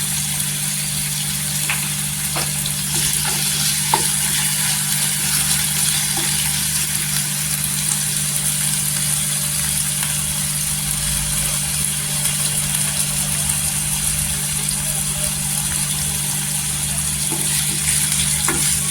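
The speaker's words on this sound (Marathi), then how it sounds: "छान असं तेलामध्ये आहे ना खरबूज असं भाजून घ्यायचं आणि गोल्डन कलरवर भाजून घ्यायचं" Potato pieces fry in hot oil toward golden brown, a continuous close sizzle with occasional faint crackles and a low steady stove hum underneath.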